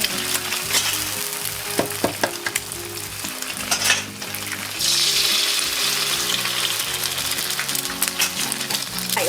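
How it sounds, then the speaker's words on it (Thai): Two eggs sizzle and crackle in a hot pan with fried garlic for riceberry fried rice, with brief clatters of a utensil; the frying grows louder and steadier partway through. "ตอกไข่ใส่ลงไปเลยนะคะ ประมาณสองฟอง"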